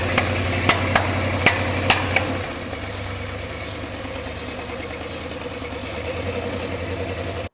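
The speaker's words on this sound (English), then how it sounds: "We had a couple of spark plug wires that were flipped, so it's going to pop a little bit." A restored Jeep engine with flipped spark plug wires runs with several sharp pops and knocks over its idle early on, then settles into a steadier, even running drone.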